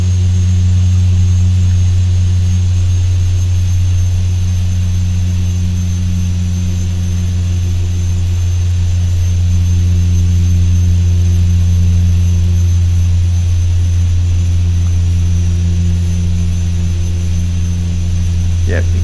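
A jet engine drones in the X-Plane 10 flight simulator, a loud, steady, low hum with a faint high whine that holds unchanged throughout.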